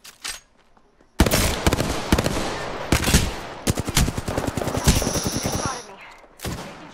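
Sniper rifle gunfire in Apex Legends, heard as a burst of sharp, loud cracks and rapid shots after a brief quiet start, with dense bursts continuing throughout and a final shot near the end.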